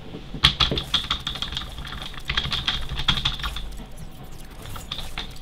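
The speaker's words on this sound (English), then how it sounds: "Sorry, that's just my keyboard." Close computer keyboard typing, a quick run of clattering key presses that begins with a sharp hit and continues in a dense, steady rhythm with no voices.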